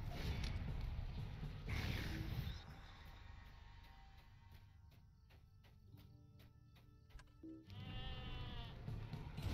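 Pet sheep in the Lord of the Rings Online game bleating, a wavering bleat rising near the end after a stretch of rhythmic clicking and faint in-game ambience, with no talk over it.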